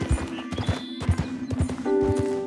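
Horse hooves clip-clopping in Red Dead Redemption 2, a horse carrying drying wolf pelts, with steady close beats, a whinny near the end and a low held tone beneath.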